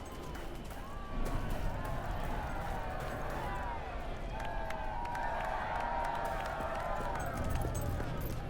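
A crowd in Fable 3 murmurs and cheers in the background, steady and moderately distant, with voices and melodic calls drifting over the noise and people talking throughout.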